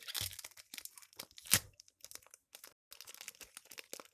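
Trading card packs are torn open by hand, with crinkly foil tearing and crumpling in short bursts, one sharper rip standing out, close and quiet, no speech.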